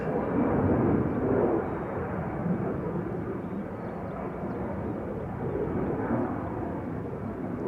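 An ITA Airways airliner taking off at Schiphol's Polderbaan, a steady broadband jet roar heard from a distance, loudest at the start and then holding level without fading.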